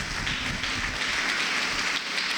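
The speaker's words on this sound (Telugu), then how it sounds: "గట్టిగా చప్పట్లు కొడదామండి." A church congregation bursts into loud, dense clapping during a Telugu sermon, a steady wash of many hands that holds at even strength for about two seconds with no voices over it.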